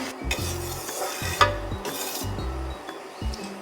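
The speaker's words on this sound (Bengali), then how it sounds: "আমি নাড়িয়ে নাড়িয়ে ভালো করে কিন্তু যাতে নিচে না লেগে যায়, সেই জন্য কিন্তু নাড়িয়ে দিতে হবে" A spoon stirs thickening milk in a pan for Joynagar moya, with repeated scraping strokes and light metallic clinks against the pan, close and fairly quiet, with one sharper clink partway through.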